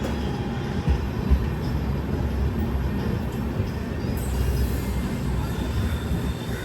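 Duranto Express, Lokmanya Tilak Terminus to Ernakulam Junction, running through Kannur railway station without stopping: a loud, steady, broadband rail rumble with clattering wheels, close and unbroken throughout, with no voices.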